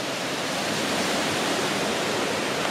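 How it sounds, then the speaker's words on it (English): A river beside a flat campsite along the Benton MacKaye Trail rushes in a steady, even wash of broadband water noise, close and continuous with no voices. "You can see a beautiful river flowing"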